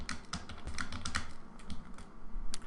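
Rapid, steady clicking of a computer keyboard being typed on, dense close keystrokes over a faint background hum, without any voices.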